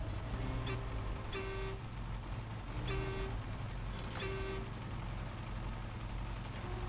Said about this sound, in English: Honk on my horn, you hear it?